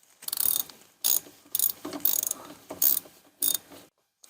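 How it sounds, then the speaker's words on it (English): A torque gun tightens the differential drain plug on a Polaris Ranger 570, giving about seven short rapid ratcheting bursts with brief gaps, close and fairly quiet. "It's 10 foot-pounds with a torque gun."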